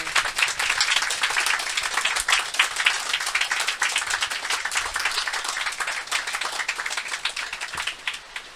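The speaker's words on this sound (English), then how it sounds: "so let's give them a round of applause." Audience members at a county town hall meeting applaud a team, with many hands clapping in a steady, fairly close patter that carries on for several seconds and gradually thins out.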